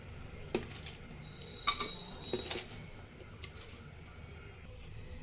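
Faint metallic clinks of pots and utensils as a pressure cooker is loaded, a few separate knocks against a quiet background hum, with no talking.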